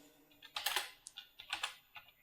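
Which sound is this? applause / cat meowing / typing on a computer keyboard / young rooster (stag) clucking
typing on a computer keyboard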